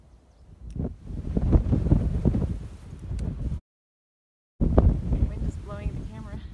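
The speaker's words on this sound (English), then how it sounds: "Wind is blowing the camera." Gusty wind buffets a camera microphone on a chilly hiking trail through a burn area, a low rumbling roar in two bursts separated by a brief silence, with someone talking over it.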